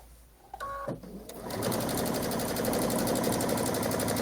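A sewing machine starts up after a few clicks and a brief tone, then runs at a steady, rapid stitching rhythm across quilt batting, close and fairly loud.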